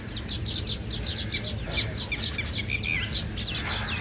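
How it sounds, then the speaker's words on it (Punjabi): Small birds chirp outdoors around sunset, a busy stream of quick, high tweets repeating rapidly over a low background rumble, fairly faint and distant. "ਚਿੜੀਆ"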